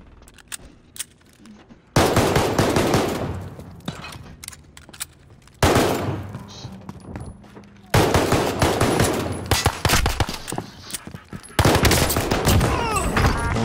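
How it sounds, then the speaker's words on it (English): Bursts of rapid automatic gunfire from a Call of Duty: Modern Warfare shootout, loud and close, erupting in several dense volleys separated by brief quieter gaps with scattered single shots. "Oh my god, that was a shootout."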